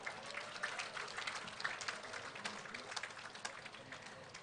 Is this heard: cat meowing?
no